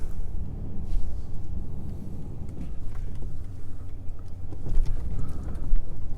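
A truck engine rumbles low as the vehicle drives off, with uneven bumps and wind noise throughout, no talking.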